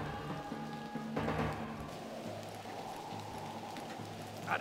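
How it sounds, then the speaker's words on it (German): Rain falls in the Western video game Desperados: Wanted Dead or Alive, a faint steady patter under soft game ambience with a few brief clatters, no talk. "Ist der Regen so laut?"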